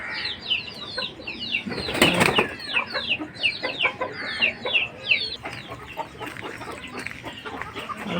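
Many chickens clucking and chattering in a busy, overlapping chorus, with a brief burst of wing flapping or scuffling partway through.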